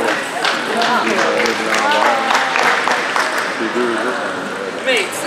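A studio audience breaks into applause, scattered hands clapping at close range and holding steady for several seconds with voices mixed in.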